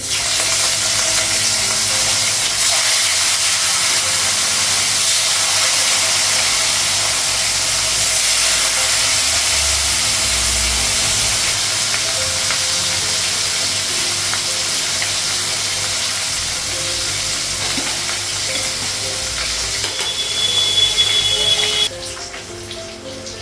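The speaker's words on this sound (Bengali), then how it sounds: "মাছটা এখন ভাজবো, কড়াইটা গরম হয়ে গেছে" Fish frying in a hot wok in a home kitchen, a continuous loud sizzle and hiss of oil running without pause, easing slightly near the end before a sudden drop.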